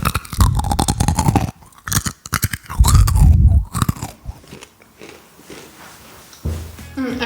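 Someone crunches on Mixit cheese-flavoured popcorn, with loud close bites and chewing in irregular bursts, then quieter munching toward the end.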